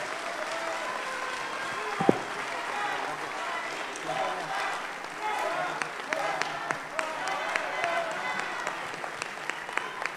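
Applause from a crowd at a political swearing-in event, steady clapping lasting throughout with speech-like murmur mixed in.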